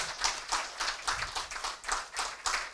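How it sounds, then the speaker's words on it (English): An audience at a formal Ghanaian event applauds: a resounding burst of many hands clapping, surging and ebbing in waves, moderately loud and continuous with no talk over it. "I believe a resounding applause is in order."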